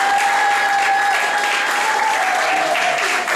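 Guests at a wedding ceremony clapping loudly and steadily, a dense close applause sustained throughout with a faint tone running underneath.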